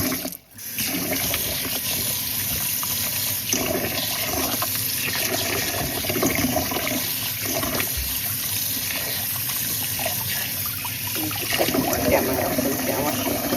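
Rice being washed in a pot for a large batch of Jamaican rice and peas, with steady sloshing, swirling water running continuously and fairly loud throughout, a brief pause near the start.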